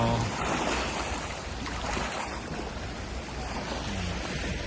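Sea waves rolling and splashing in a continuous wash off Helicopter Island, El Nido, Palawan, with wind buffeting the microphone; no talking.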